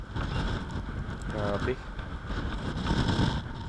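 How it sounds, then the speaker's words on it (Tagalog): Gusty wind roars into the microphone in a loud, rushing buffet, with a person exclaiming over the blowing noise. "Malakas talaga yung hangin."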